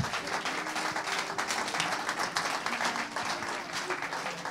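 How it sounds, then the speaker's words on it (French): A church congregation claps steadily together, a dense, continuous wash of many hands with faint voices mixed in. "Clap, clap for the Lord."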